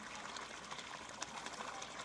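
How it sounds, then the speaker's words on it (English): Air bubbles gurgle faintly through water as a siphon begins to start, with soft irregular bubbling pops over a quiet watery hiss. "now the air bubbles coming out will trigger a siphon starting"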